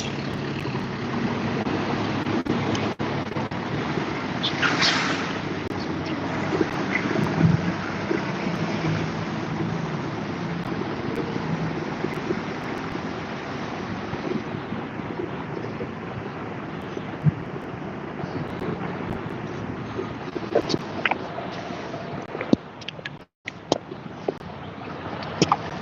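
Wind blows outdoors on a city street, a steady broadband rush buffeting the microphone for the whole stretch, with occasional faint knocks and no clear talk.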